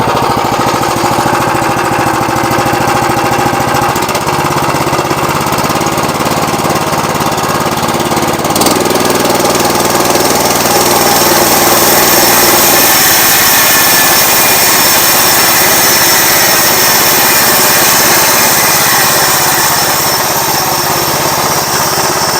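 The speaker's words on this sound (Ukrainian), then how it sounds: "Класна річ, дамо газку трішки, зараз побачимо." A Lifan 188F petrol engine driving a homemade sawmill through a centrifugal clutch revs loud and steady, close by, with a harsh rattling drone and small shifts in pitch as the throttle changes, and no talk over it.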